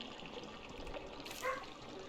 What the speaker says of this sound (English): Something's splashing on the other side of the door.